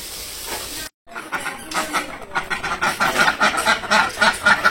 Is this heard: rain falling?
no